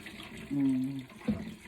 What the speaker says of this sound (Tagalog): Unti-unti lang pagkuha ng tubig para makuha yung mga dumi